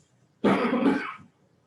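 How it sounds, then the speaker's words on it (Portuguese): A single harsh throat-clearing cough from a sore throat, close and fairly loud, lasts under a second against a quiet room. "algumas vezes vão me ver tossindo aqui"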